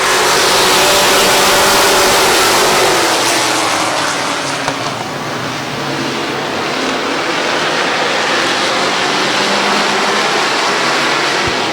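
Street stock race cars roar at Midvale Speedway under a green flag, a loud continuous wash of engine noise accelerating and droning steadily, dipping briefly mid-run before building again.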